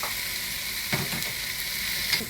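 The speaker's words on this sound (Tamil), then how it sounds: "இந்த டைமில் தக்காளியை போடுறேன். தக்காளியும் கொஞ்சம் வதங்கட்டும்." Chopped tomatoes sauté in a pan for a village-style crab curry, the hot oil hissing steadily while a spatula stirs with a few scraping strokes.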